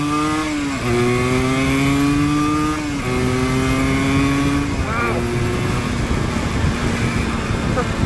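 A 1988 Yamaha DT200 two-stroke motorcycle revving as it pulls away and shifts up through its gears, with a loud, buzzy engine tone that climbs, drops at each shift and climbs again, close up and constant.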